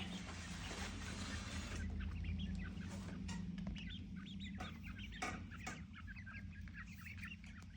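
Quail chicks about 20 days past incubation chirp in short, high peeps scattered throughout, close by and fairly soft over a low steady hum.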